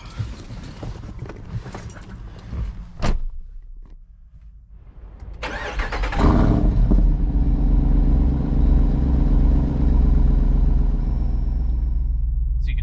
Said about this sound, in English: So at this point, I'm gonna get inside the vehicle and I will start it up for you.